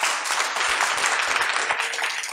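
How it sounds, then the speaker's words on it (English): A conference audience at a coding bootcamp demo day in Montreal breaks into dense, steady applause and clapping that fills the space at a loud, even level for the whole moment. "let's start with a huge round of applause"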